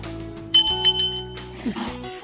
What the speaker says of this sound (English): It's always a surprise which bell you're going to pull out.